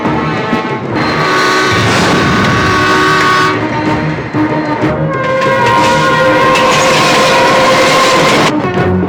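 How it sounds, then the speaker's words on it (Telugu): Train running in a film fight scene, a loud continuous rumble of a moving train with drawn-out horn blasts sounding over it, no talk. "ఇదే కాక ఎదురుగా వేరే రైలు బండి వస్తుందిరా"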